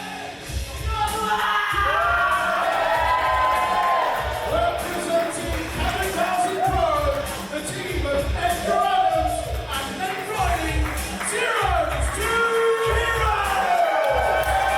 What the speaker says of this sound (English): All cheer at once.